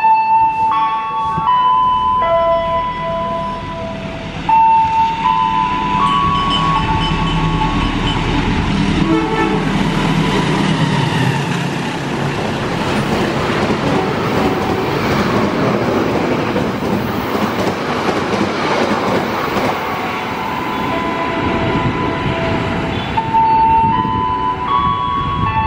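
An Indonesian KA Pandalungan passenger train rolls past close by with a steady rumble of its cars, and its horn sounds loudly near the start and again near the end.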